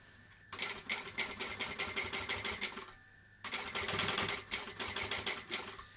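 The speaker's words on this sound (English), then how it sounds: "So I'm sewing a box." A sewing machine stitches a box on a Brentwood backpack, running in two loud, rapid bursts of close mechanical chatter separated by a brief pause, with no talk.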